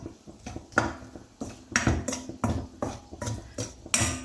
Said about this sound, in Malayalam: ഉപ്പ് കൂടി ഇട്ട് കൊടുത്ത് നമുക്ക് ഒന്ന് വഴറ്റി കൊടുക്കാം